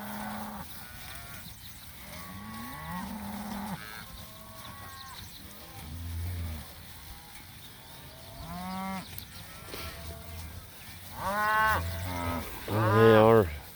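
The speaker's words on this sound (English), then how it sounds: "The cattle and the calves are filled out good." Cattle and calves mooing in a green summer pasture, several drawn-out moos from different animals at varying distances, growing louder and more frequent toward the end.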